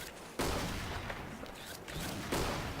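Rapid bursts of gunfire from the video game X-Shot, dense and loud, with sharp volleys that swell at two points amid a steady barrage.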